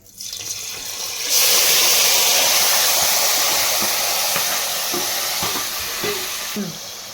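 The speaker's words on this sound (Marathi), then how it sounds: "तेजपत्ता टाकल्यानंतर आपण भाजी टाकणार।" Vegetables are tipped into hot oil with a bay leaf, setting off a sudden loud, broad sizzling hiss that holds steady and slowly fades, with a few faint clinks of utensils near the end.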